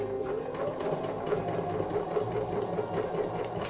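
A sewing machine runs steadily while stitching down a triangular swag on a quilt, a close, continuous whirring hum with a fast rhythmic needle pulse throughout.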